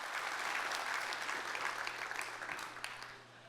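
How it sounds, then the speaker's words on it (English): An audience applauds a Hall of Fame honoree being welcomed to the stage at a community keynote event, with steady, dense clapping throughout that fades toward the end. "give him a round of applause"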